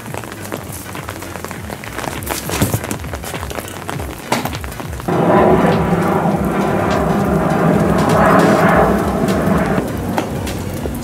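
Scattered patter gives way to a steady, loud rush of falling rain that holds for the rest of the clip.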